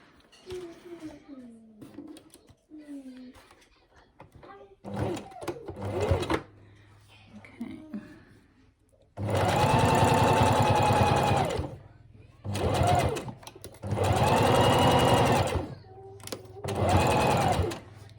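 A sewing machine stitches fabric flippers onto a body in several loud, steady runs of whirring, with pauses between them and quieter stretches of handling and fabric noise before the stitching begins.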